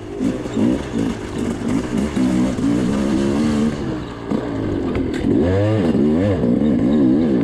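An enduro dirt bike engine revs hard and bogs over rocky creek beds during a Wild Cat Enduro race, the throttle surging and sticking in loud, uneven bursts, close to the rider.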